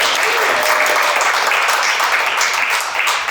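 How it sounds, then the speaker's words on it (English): Steady, loud applause from an audience at a literary reading event, a thick continuous wash of many hands clapping that holds for over three seconds with no talking over it. "All that applause."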